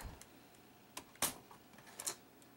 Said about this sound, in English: Close the laptop.